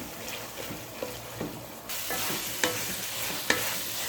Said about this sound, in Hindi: अब हम इसमें दाल ऐड करेंगे और इसको 5 मिनट तक फ्राई करेंगे अच्छी तरह